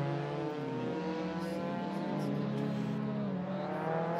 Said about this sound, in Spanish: ese BMW, que suena bastante bien